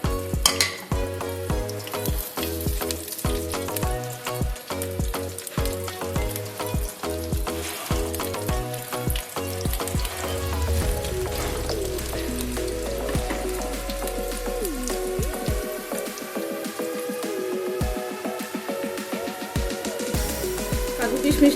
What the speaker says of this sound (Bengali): এখানে কাজু কিশমিশটা আমি প্রথমে ভেজে নেব।